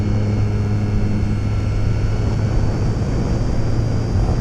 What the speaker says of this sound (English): I'm pretty much at full throttle the whole time in this plane.